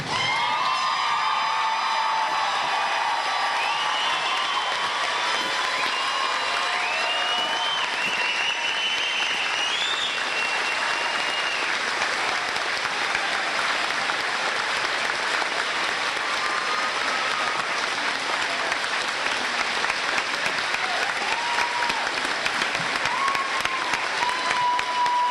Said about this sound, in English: let us please stand and applaud the graduates